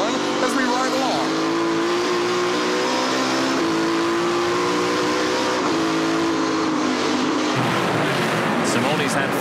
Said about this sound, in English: Anthony Simone runs all out all the time in that Silverline Tools number one as we ride along